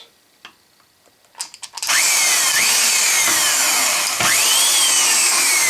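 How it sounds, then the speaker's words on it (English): A power drill fitted with a Versamatic speed reducer drives drywall screws into a 2x4, starting after a few light clicks and then running as a loud, steady whine with rising pitch sweeps as it loads and releases. "you can put the tip of your bit right into the screw like that"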